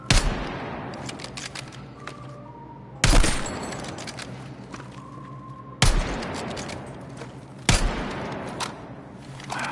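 Heavy gunfire from a recoiling weapon in Battlefield 6, loud sustained bursts of rapid shots repeating in four waves, each starting with a sharp crack and trailing into rattling fire.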